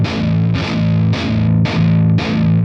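A distorted electric guitar runs through a real tube-style guitar amplifier, hammering out five evenly spaced heavy chord stabs that ring thick and loud, close up, with no talking over them.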